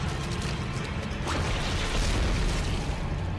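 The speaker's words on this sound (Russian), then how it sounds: "Во, взрывается." A creature bursting apart in the sci-fi horror video game Dead Space gives a dense, loud, rumbling boom that fills the whole short stretch, with no speech over it.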